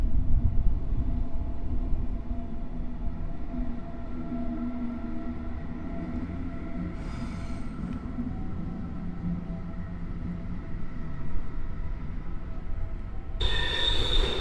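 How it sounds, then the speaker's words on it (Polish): Passenger train entering a platform at a station under construction, wheels squealing in long sustained high-pitched tones over a low rumble of rolling stock, with a sharper burst of screech near the end. "Ostre piłowanie przy wjeździe na peron numer 9."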